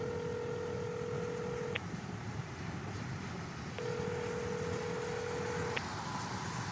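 Telephone dialing tones placing a call to an operator, two long steady tones separated by a brief gap and a click, heard alone over faint background noise.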